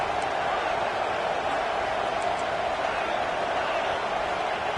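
Dense, steady roar of a large football stadium crowd, loud and continuous throughout with a broad wash of massed voices and no distinct pauses.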